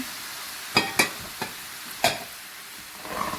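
A spoon stirs and mixes lightly fried eggplant and potatoes for a masala in a pan, making a few sharp scraping knocks over a soft, steady sizzle.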